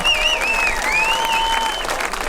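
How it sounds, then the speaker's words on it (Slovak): An audience at a ringside fight event applauds a fighter, with dense, steady clapping running the whole way under whistle-like tones from the crowd. "clap your hands for this warrior"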